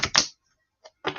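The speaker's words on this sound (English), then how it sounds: "I am going to shuffle them up" A deck of reading cards is shuffled in two quick riffling bursts, a soft tap after a short pause, then another flurry of shuffling, all close up with no talking.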